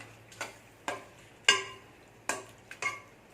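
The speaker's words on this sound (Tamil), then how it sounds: "நல்லா கிளறி விட்டு வேக வச்சுக்கோங்க" A spoon scraping and tapping through thick prawn pulao gravy in a pan, five or six distinct clacks spaced about half a second apart, close and fairly quiet over a low hum.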